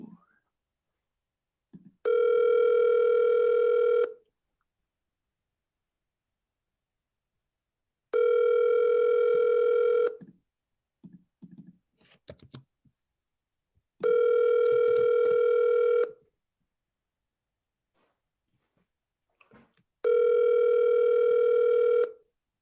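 Outgoing phone call ringback: four long, even two-second ring tones with quiet gaps of about four seconds between them, clear and alone, with faint small clicks in between.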